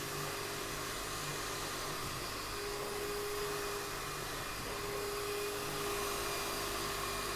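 Numatic CT570 carpet extraction machine running with a steady, continuous motor whine and suction roar, moderately loud and unbroken throughout, with no talking.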